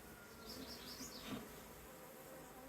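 Honeybees buzzing inside a hive during a queen check, a steady close hum with a brief louder drone passing near the microphone.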